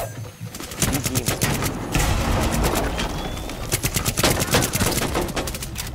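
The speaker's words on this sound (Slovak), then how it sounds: "Prečo po mňa strieľal?" Rapid gunfire in Rainbow Six Siege, with dense bursts of sharp shots cracking in clusters over about six seconds, loud and close with brief gaps between volleys.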